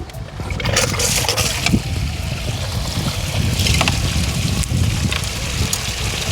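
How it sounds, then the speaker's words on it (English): A steady rush of water from a plugged-in pump sprays and washes sand and moss down, a continuous close hiss with faint splashing throughout. "So I just plug in my pump for a second"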